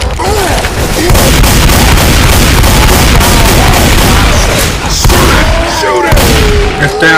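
Dense, loud gunfire and booms in the Haunted Forest zombie shooter, a continuous barrage of shots rattling close up, with brief voices over it near the end.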